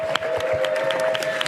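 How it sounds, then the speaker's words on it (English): Steady, dense applause from a crowd at a poker final table, with continuous clapping and a sustained tone running underneath throughout. "As the well-deserved round of applause starts to come in for Leo Margette."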